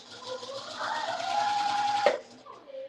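A sewing machine whirs in a steady run of about a second before stopping, with faint background voices around it.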